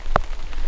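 Rain falling on a cheap barbecue cover thrown over a telescope outdoors at night, a steady soft patter with one brief louder tap.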